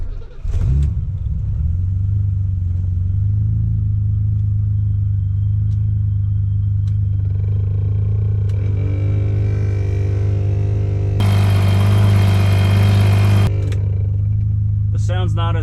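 Blower motor in a classic BMW E28 535is with an M30 engine, worn bearings making a steady low hum and whine inside the car, running continuously and loudly with a brighter, stronger stretch of airflow partway through.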